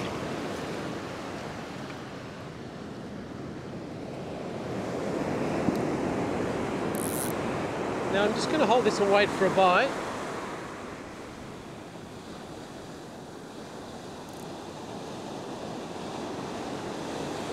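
Ocean surf breaking on a beach during beach fishing, a steady wash of waves under light wind rumble, with someone speaking briefly over it midway.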